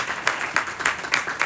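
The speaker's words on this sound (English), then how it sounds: "So let's give a round of applause" An audience at a live event applauds in a dense, loud burst of clapping with sharper individual claps standing out, continuous across the short stretch.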